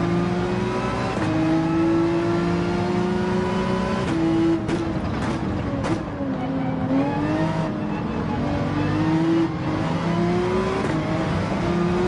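Porsche 911 engine in Gran Turismo 7 racing, a steady loud drone rising and falling in pitch as it powers out of turns, continuous and close throughout.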